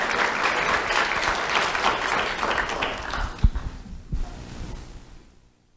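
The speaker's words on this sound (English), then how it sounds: "Let's have a round of applause for Ivan Lozano." An indoor audience at a youth good-deeds award ceremony gives a hearty round of clapping for a seventh-grade recipient, loud and dense at first, then thinning and fading out.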